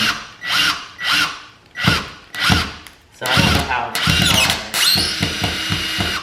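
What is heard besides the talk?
power drill drilling into wall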